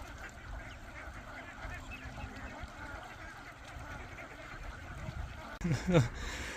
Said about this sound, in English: All the ducks.